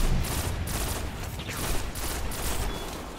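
Gunfire from a Destiny Vault of Glass match: rapid bursts of loud weapon shots in a dense, continuous barrage, with no talking over it.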